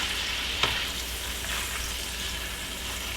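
Bacon sizzles and crackles steadily in a non-stick skillet, with a single sharp click of metal tongs early on against the constant frying hiss.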